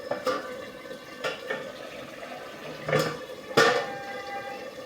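Water is splashed into a pan of cooking dhemse (round gourd) vegetable, bringing a few sharp sizzling bursts and spatters over a quiet simmer, with the loudest surges near the end.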